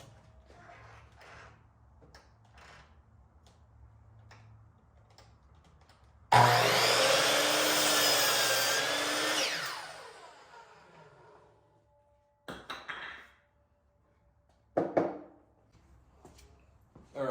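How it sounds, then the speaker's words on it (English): A power saw cuts wooden boards to size for the frame of a homemade putting green. One loud, sustained cut runs about three seconds, then two short, sharp bursts follow after pauses, with quiet workshop background between them. "I'm gonna start cutting these to size to match the width of our baseboard there"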